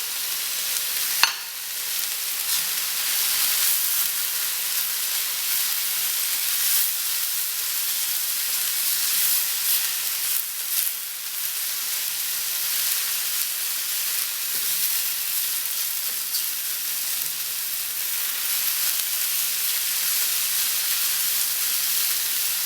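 Onions fry in butter in a cast iron skillet over high heat, giving a continuous close hiss and sizzle with a brief clink early on and small stirring shifts throughout.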